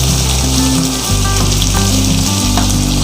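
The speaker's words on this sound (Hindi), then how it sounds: "दस मिनट तक इसको चिकन डाल के भूनेंगे।" Chicken and arvi (taro root) sautéing in a pan, a loud, close, continuous sizzle and crackle of frying with no talking.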